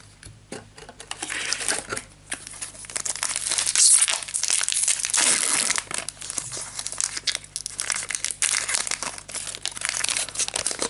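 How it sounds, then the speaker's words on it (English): Foil wrappers of Magic: The Gathering Eternal Masters booster packs crinkle and tear close up, a steady run of crisp rustling with sharper crumpling bursts and no talking. "Trying not to kill the cards while I open these packs"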